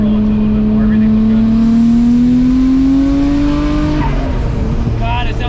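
A Nissan R34 GTR fitted with titanium intakes makes a loud wide-open-throttle pull, its engine note climbing steadily for about four seconds before dropping off as the revs fall.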